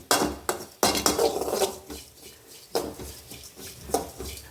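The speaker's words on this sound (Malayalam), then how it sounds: "ഇത് പെരുംജീരകവും തേങ്ങ എല്ലാം കൂടെ നന്നായിട്ട് വറുത്തെടുക്കുക" Fennel seeds and grated coconut dry-roasting in a pan, with a utensil scraping and clinking against the metal in irregular bursts, close by and with no talk.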